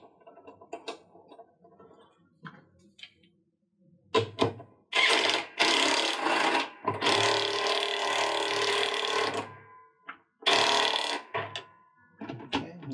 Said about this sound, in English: tightening up the screw.